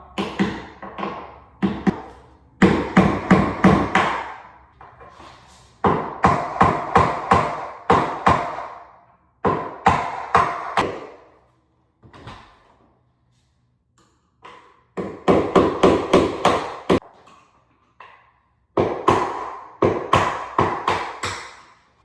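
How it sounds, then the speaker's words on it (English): Bursts of sharp metallic tapping, a hammer striking a screwdriver repeatedly in quick runs to pry wood, separated by short pauses, close and fairly loud with no voices. "Easiest way to do it is hammer and a screwdriver. Just go from the bottom."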